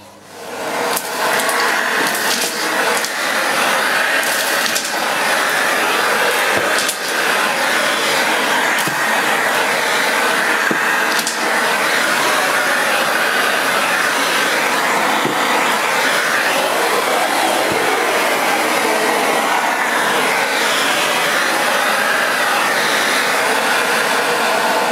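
A Miele S5 Revolution 5000 cylinder vacuum cleaner runs on a hard floor with a standard or parquet nozzle, a steady loud whirring suction drone lasting throughout with small clicks and debris rattles, no talking.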